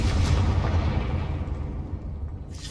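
A Confringo fire-blast spell explodes in Hogwarts Legacy with a heavy, close boom and rumbling blast that dies away over a couple of seconds, ending with a faint hiss.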